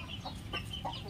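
An Aseel rooster makes a few short, faint clucks close by, heard alone against quiet surroundings.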